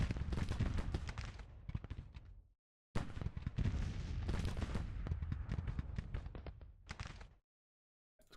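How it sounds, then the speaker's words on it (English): An artillery bombardment in the Civil War strategy game Grand Tactician: dense, rolling bursts of cannon fire and booming impacts in two long loud volleys, split by a short silence and ending in a brief final shot. "Let's do some more bombardment as well."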